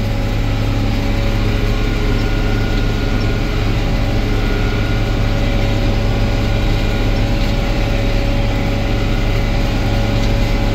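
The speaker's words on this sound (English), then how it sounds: "This is a 435 John Deere round baler." John Deere 435 round baler, bought new in 1990, running with a loud, constant low engine drone and mechanical hum throughout, steady with no pauses and no voices.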